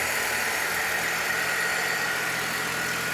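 A 1966 Chevrolet C20 pickup with a Chevy 292 engine idles slightly fast just after its first start, a steady, loud, continuous mechanical rumble with no talking.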